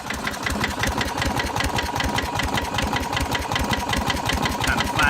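A lawn mower engine fitted with a Geet modification runs steadily, a close, continuous fast chugging with rapid regular firing pulses and a mechanical rattle, heard alone at constant speed.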